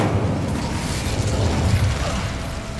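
An Incendio fire spell cast in the video game Hogwarts Legacy, a steady roaring, crackling whoosh of flame that holds loud for a few seconds.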